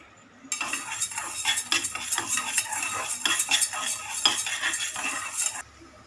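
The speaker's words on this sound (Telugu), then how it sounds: "నూనె వేయకుండానే వేయించుకుంటున్నాం." Toor dal dry-roasting in a pan with no oil, stirred with a metal ladle: a busy rhythmic scraping and rattling of lentils against the pan, close and steady for several seconds, no voices.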